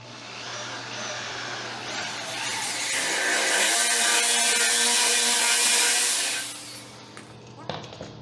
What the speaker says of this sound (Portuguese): E agora é simples, é fazer a furação.